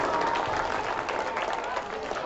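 An audience at a Republic Day celebration at a madrasa in Jaunpur gives steady, dense applause with crowd noise, heard briefly and at moderate distance.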